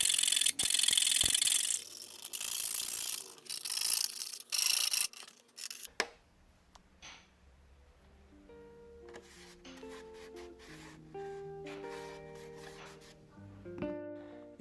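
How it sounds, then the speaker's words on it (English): Edges of clear plastic windows for a Traxxas TRX-4 Defender RC car are filed in close, loud, rhythmic rasping strokes for about six seconds, followed by softer plastic rattles, taps and handling sounds. "use a file or sandpaper to sand and smooth all the edges"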